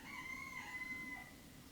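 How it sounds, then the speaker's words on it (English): A rooster crows outside in the morning, heard from inside a countryside shepherd's hut: one drawn-out, steady call at moderate distance over a low background hum. "You can hear the rooster outside doing his thing."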